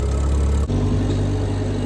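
A forklift engine runs steadily while pallets are loaded into a space, giving a continuous close, loud hum with a brief dip partway through and no speech.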